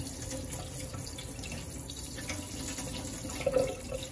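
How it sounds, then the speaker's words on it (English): Tap water runs steadily over a fish fillet being rinsed for a Chinese ginger-scallion dish, a continuous close hiss of flowing water with a slight splashy swell near the end. "it's good to give it a quick rinse as well before we proceed to the preparing of this fish"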